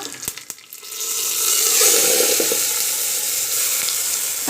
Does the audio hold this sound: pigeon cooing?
no